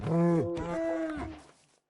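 A cow in the Minecraft video game gives a single drawn-out moo, clear and close, that breaks into two voiced parts before quickly fading to silence.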